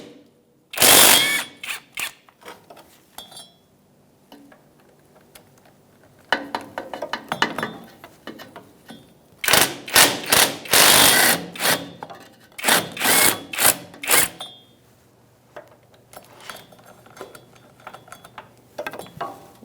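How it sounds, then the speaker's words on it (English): A ratchet with a 10mm socket takes bolts off a CV joint on a 2007-2017 Ford Expedition, giving bursts of rapid clicking separated by quiet pauses. "Now we're going to use a 10mm socket, and we're going to remove our bolts."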